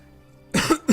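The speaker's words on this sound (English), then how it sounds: "He coughs." A man coughs twice in quick succession after a near-silent moment, each cough close and fairly loud, the second one sharper than the first.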